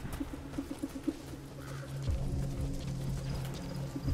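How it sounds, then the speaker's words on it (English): A horse in Metal Gear Solid V: The Phantom Pain gallops, its quick rhythmic hoofbeats clip-clopping at moderate volume over low game ambience, then giving way to a steadier rumbling movement sound. "I might call my horse over"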